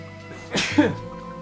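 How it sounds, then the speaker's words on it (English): A single sneeze bursts out near the middle over faint background hum and tones, then quickly fades. "Going to sneeze."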